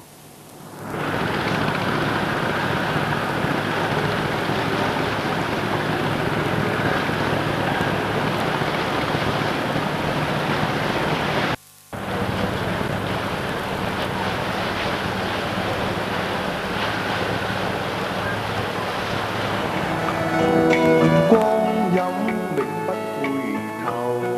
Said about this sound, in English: The hustle and bustle of all boats and ships and water transport of all shapes and sizes. scurry back and forward across the harbour.